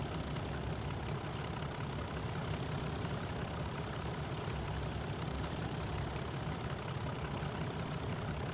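A BR Class 37 diesel locomotive engine in a train simulator game drones steadily throughout, a loud, continuous low rumble with no talk over it.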